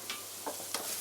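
Eggplant fries in olive oil in a pan, giving a quiet, steady sizzle. A few soft clicks of stirring sound over it in a brief one-second stretch without talk.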